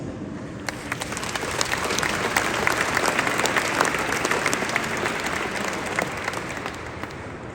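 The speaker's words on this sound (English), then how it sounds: "Thank you for applauding the Mayor of Washington, D.C. for this remarkable proclamation" An audience applauds steadily at a ceremony proclaiming Azerbaijan Independence Day in Washington, D.C., a dense wash of clapping hands sustained throughout at moderate volume, without speech.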